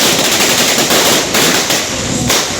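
A long string of firecrackers bursts in rapid, crackling succession at a UDF celebration rally in Cheruthuruthy, loud and dense throughout with no pause.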